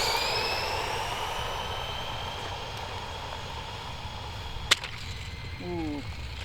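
A motorized LEGO Technic McLaren P1 driving in reverse gives a steady whining electric motor drone with high tonal hum, broken by one sharp snap near the end and a brief rising gear chirp.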